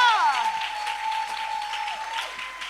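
A church congregation applauds in a lively, sustained burst of clapping while a voice speaks over it and a sustained tone rings underneath.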